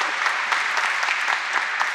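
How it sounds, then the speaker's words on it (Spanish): Audience applause at a talk, a dense steady wash of many hands clapping, moderately loud and continuous with no voices over it. "Un aplauso."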